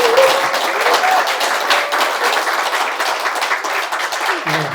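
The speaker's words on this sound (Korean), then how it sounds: "우리 두 후보자들한테 박수 한번 쳐주세요." Dense, sustained applause from an audience at a joint debate for candidates in an Incheon social workers' association president election, loud and close throughout and fading at the very end.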